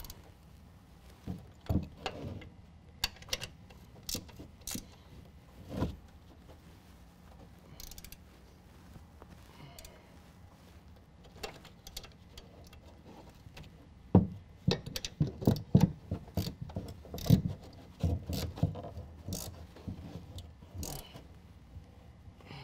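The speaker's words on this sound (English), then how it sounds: "Now we're going to tighten our upper strut hardware to 40 foot-pounds" Upper strut hardware on a 2014-2017 Chevy GMC 1500 4WD being tightened during a Havoc Offroad 4.5-inch lift kit install, a quiet shop scene of intermittent ratchet clicks, metallic creaks and clunks, busiest toward the end.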